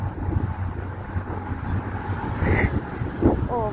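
Steady wind buffets the microphone on a hot, sunny outdoor day, a constant low rumble throughout with faint distant sounds mixed in.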